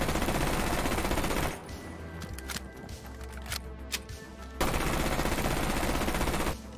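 Automatic gunfire from the MX Storm in the Rainbow Six Siege video game, with an angled grip attached: loud, sustained bursts of rapid fire at the start and the end, separated by a quieter stretch with a few scattered shots.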